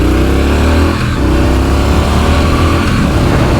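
A 2023 Triumph Scrambler 900 motorcycle rides down a road, its engine giving a loud, continuous, grumbling drone with a low rumble throughout and no voices.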